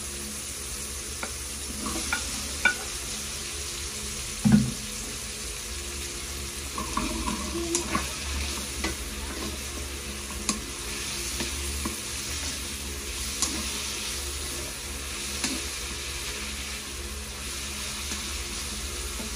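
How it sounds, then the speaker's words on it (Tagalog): Vegetables sautéing in a pan for ginataang tilapia, a steady low sizzle with occasional soft stirring scrapes and clinks, close by and fairly quiet, no voices. "Kasi next na natin ang ating gulay para nagigisa siya."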